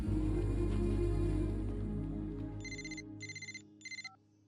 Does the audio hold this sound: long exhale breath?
no